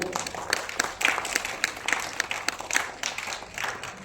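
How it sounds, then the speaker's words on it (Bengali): Audience at a theatre festival gives a short round of applause, with scattered, moderately loud claps that start together and thin out across a few seconds. "একবার জোরে হাততালি হয়ে যাক"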